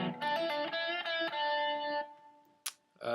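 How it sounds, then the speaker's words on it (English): Overdriven electric guitar plays a short opening phrase from a song, a few choppy strummed chords ringing for about two seconds, then a sharp pick scrape and a brief new attack. "Right, so the first part sounds like this."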